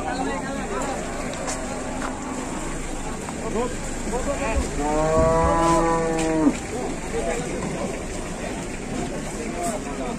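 Large cattle are unloaded from a truck, and one animal lets out a single loud, drawn-out moo in the middle, with busy background noise and people talking nearby.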